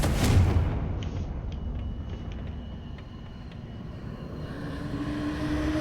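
A Confringo blasting curse in Hogwarts Legacy, a loud booming blast at the start that fades into a rumbling tail, with faint magical chimes and ambience after it.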